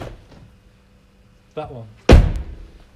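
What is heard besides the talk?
car doors opening and closing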